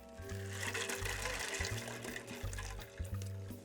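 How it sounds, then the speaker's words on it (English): Ice water pours steadily into a container of bacon brine, a continuous gushing splash with a low rumbling resonance, close and fairly loud throughout. "Then add the ice water."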